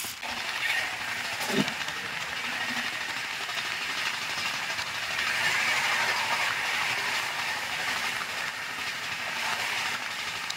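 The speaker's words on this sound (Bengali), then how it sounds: "Train number 12278 Puri Howrah Shatabdi express." Puri Howrah Shatabdi Express, train number 12278, running along the rails, heard as a steady, continuous rumble and hiss with a faint rhythmic clatter throughout.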